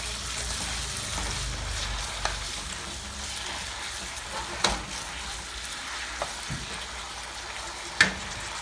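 Steak and sliced peppers frying over high heat in a pan, a continuous close sizzle with occasional soft stirring knocks and clinks.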